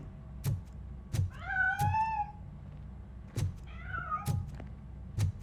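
A cat in RoboCop: Rogue City meows twice, each a rising and falling mew of middling loudness, among repeated dull thumps and low background rumble.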